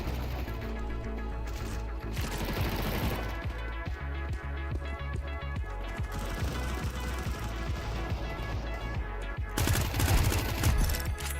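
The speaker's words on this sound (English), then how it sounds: "get some headshots with an HMG" Heavy machine gun fire in a video game, loud, close and dense, with rapid overlapping bursts running almost without pause and a harder, louder volley near the end.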